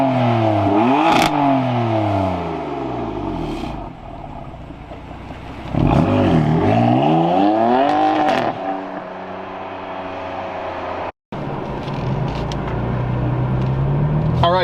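A modified BMW M4 with its exhaust flap open revs hard several times, loud, close bursts that climb and fall in pitch with rasping crackle between them, separated by brief idle lulls.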